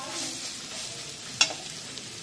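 Spices fry in a pan over a low flame, giving a quiet, even sizzle, with one short sharp clink of a utensil partway through and no voices.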